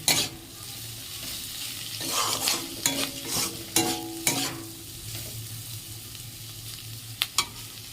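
Diced potatoes and onion frying in a pan, a steady close sizzle with repeated scraping clacks of a spatula stirring, with no voices.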